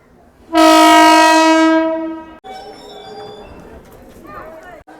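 A Nepal Railways train pulls into a station platform, sounding one long, loud, harmonic horn blast for about two seconds, followed by the rumble of arrival and a murmur of voices on the platform.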